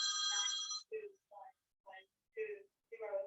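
A mobile phone rings with an incoming call as a short electronic tone followed by a stuttering run of ringtone bursts, heard over an online meeting.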